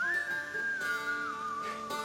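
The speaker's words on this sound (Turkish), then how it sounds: "Hiçbir kız böyle ıslık çalmamalı." A person whistles a single sustained, fairly steady tone that glides slightly down in pitch for about two seconds, close and clear over faint background noise, with no talking.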